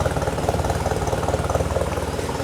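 A Nissan 240SX idles steadily in a garage, its engine putting out an even, close, rhythmic chugging pulse with a small exhaust leak, and no one speaking over it.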